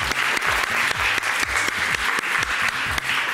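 Studio audience applauding a returning champion contestant on a French TV talent show, steady dense clapping with musical tones underneath, loud and continuous throughout.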